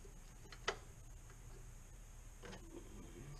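An electrical connector on an SR Performance 130 amp alternator for a Mustang GT snaps into place with a single sharp, close click in an otherwise quiet space, followed by faint handling noise.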